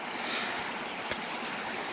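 Steady broadband rush of a flowing creek along the Pacific Crest Trail near Big Bear, constant and close, with one brief faint knock partway through and no voices.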